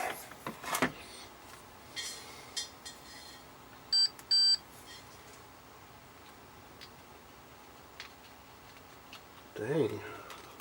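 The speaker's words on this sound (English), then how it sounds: "Let's put the meter in continuity mode so we can hear it beep" A multimeter set to continuity mode gives two short, sharp electronic beeps in quick succession while an early-television 16DP4 CRT is being tested, amid soft handling clicks and taps, with a person talking nearby.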